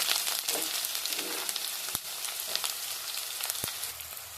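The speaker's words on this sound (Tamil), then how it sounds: "இப்போ நம்ம வெங்காயம் கட் பண்ணி வச்சுருக்க வெங்காயம் ஆட் பண்ணிக்கலாம்" Onion pieces frying in hot oil alongside mustard seeds, curry leaves and dried red chillies, giving a steady close bright sizzle throughout with a few sharp crackles and spatters, no talking.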